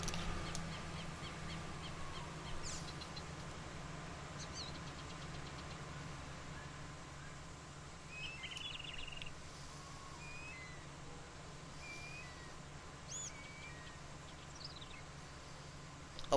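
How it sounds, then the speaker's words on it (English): Wildlife ambience in the Farming Simulator 19 video game: scattered small birds chirp faintly over a steady low background hum, with brief high calls dotted across a quiet, continuous soundscape. "I love how the wildlife sounds on here too. If you guys can hear that, all the little birds chirping, it sounds very, very tropical."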